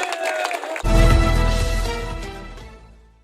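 Applause from an audience at a political event breaks out suddenly, a loud dense wash of clapping that slowly tapers off.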